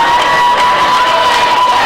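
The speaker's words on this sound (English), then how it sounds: "Wild, rambunctious crowd supporting the Bobcats." A wild, rambunctious crowd cheers and shouts nonstop in a gym, backing the Bobcats at a close North Adirondack Central vs Seton Catholic boys' basketball game; loud, dense and steady throughout with whoops and children's yells.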